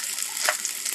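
Chicken pieces fry in a pan for chilli chicken, a close, bright, steady sizzle with a faint stirring movement partway through.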